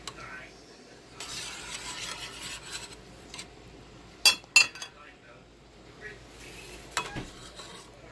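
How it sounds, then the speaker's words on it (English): A small strainer skims foam off a pan of boiling pinto beans, giving soft scraping and stirring rubs against the pot with a few sharp metallic clinks, heard close and fairly quiet. "You just take a little strainer, go around your pan,"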